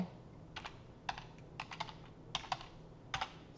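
Several separate key presses on a computer keyboard, scattered clicks in small clusters, close and fairly quiet against low background hum, with no voices.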